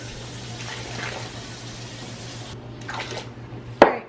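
Warm water, about four and a half cups, poured steadily into a bowl of flour for homemade dough, a soft continuous splashing stream that stops abruptly, followed by a few faint drips and a sharp clink near the end.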